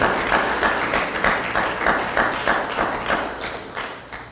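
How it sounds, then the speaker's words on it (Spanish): A church congregation claps together in a strong rhythmic pulse, loud and steady, the beat holding while the clapping slowly fades toward the end. "Den un aplauso fuerte al Rey de la Gloria."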